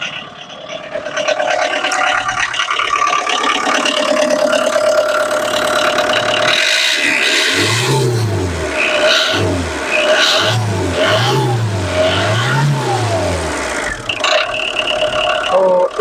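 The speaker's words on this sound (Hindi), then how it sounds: "तो इतनी नॉकिंग गाड़ी में आ रही है।" A 2016 Tata Indica eCS LX car engine with a knocking fault and black smoke idles roughly, then revs in repeated rising and falling bursts, loud and close, with someone talking over it.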